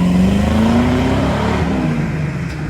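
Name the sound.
van with tuned port 350 engine accelerating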